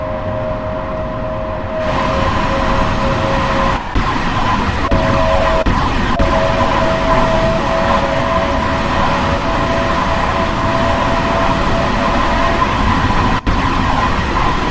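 Train running in Train Sim World 2 on the Harlem Line, a continuous rumbling drive with a steady tone that starts and stops, heard alone.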